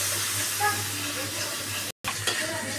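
A paste of tomato, ginger, garlic and onion fries in a pan for an egg curry, giving a soft, steady sizzle with faint stirring and a brief dropout partway through.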